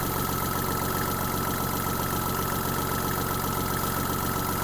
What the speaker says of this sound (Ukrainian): Давайте додамо більше обертів двигуну